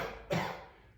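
A single short, forceful human cough, close and clear, with a bit of trailing breath after it.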